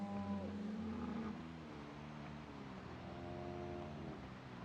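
Cows lowing in open fields in the video game Project Zomboid build 42, several drawn-out moos overlapping at moderate distance against a steady background hum.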